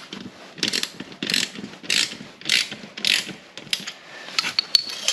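A hand ratchet tightening a ShelterLogic Shed-In-A-Box frame gives quick bursts of close clicking in a steady rhythm, about seven or eight strokes, with no talking.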